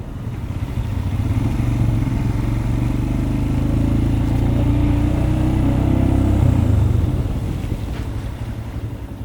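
A Royal Enfield motorcycle rumbles past outdoors, its low engine drone swelling over several seconds and then fading, with wind buffeting the microphone.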